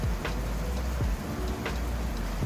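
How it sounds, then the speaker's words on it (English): Rain falls steadily in a continuous patter and hiss, with scattered nearby drops hitting surfaces, moderately loud throughout and with no voices. "We're taking a quick break to enjoy this rain."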